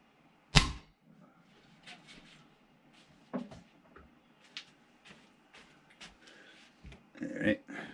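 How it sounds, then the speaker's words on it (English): A .177 Crosman 357-6 pellet gun fires at a target, one sharp close crack followed by quieter clicks and handling knocks, with someone speaking in between. "now we're going to shoot the 177 at this and see what it does"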